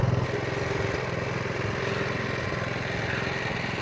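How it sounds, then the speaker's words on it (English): A small snowblower chugs steadily as it churns through snow deeper than its handles while clearing a mountain-house driveway, its engine drone loud, close and continuous with no pause. "It turns out that the snowblower can cope with huge amounts of snow, even when it's deeper than the handles."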